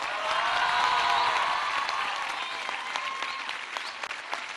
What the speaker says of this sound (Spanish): recibamos con un fuertísimo aplauso